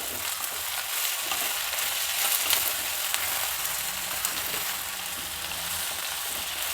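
Brinjal pieces frying in oil for vangi bath, stirred over a medium flame, giving a steady, close, continuous sizzle with scraping from stirring throughout and no talking.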